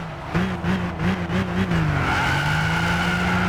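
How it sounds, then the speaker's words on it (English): Wheel spin from a Nissan Skyline 370GT with a VQ37 engine in Gran Turismo 6, loud engine revs that rise and fall and then settle into a sustained high rev with tire squeal, close and alone. "we got damn wheel spin"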